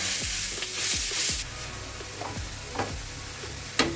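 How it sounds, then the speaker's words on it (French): Minced meat frying in a pan with no oil, a steady close sizzle with several sharp stirring scrapes and clinks of a utensil against the pan, no voices. "cuisson de la viande hachée. Fort toujours, j'ai pas mis d'huile."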